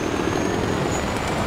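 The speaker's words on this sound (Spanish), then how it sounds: "Y vamos rápidamente con el helicóptero." Helicopter flying in the video game Far Cry 4, a steady, dense rotor and engine drone holding at an even level throughout with no speech over it.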